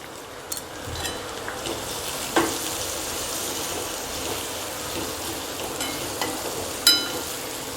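Chopped onion with turmeric fries in a pan, a soft, steady sizzle with faint stirring scrapes and a couple of brief clinks, no voices.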